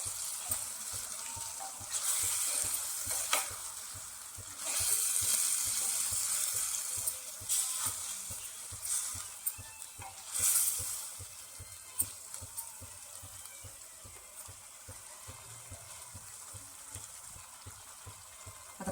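Chopped bottle gourd frying in a pan as the base of an Agri-style prawn curry, with a steady soft sizzle, occasional stirring scrapes and louder bursts of spitting oil.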